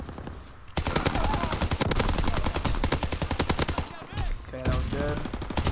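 SMG fire in Call of Duty WW2 rattles in long, rapid automatic bursts close up, with brief pauses and more firing, while someone talks over the action.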